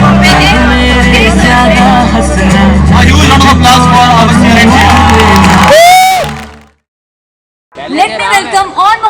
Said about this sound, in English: A huge round of applause for our CR and GR.